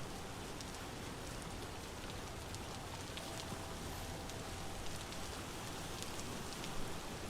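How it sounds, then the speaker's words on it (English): Steady rain pours across a Vintage Story game world in early-fall weather, a continuous even hiss of falling drops with faint patter, no voices, holding level throughout. "It is still raining over here."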